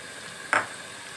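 Garlic paste hits half-browned onions in a hot pan, giving one short, sharp burst of sizzle that flares and quickly fades back to a quiet hiss.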